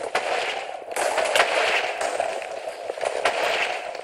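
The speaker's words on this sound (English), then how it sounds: "Oh no, TNT." TNT blasts in the Bomb Lobbers minigame crackle in a dense, continuous barrage of overlapping pops and booms, loud and close, with no talk.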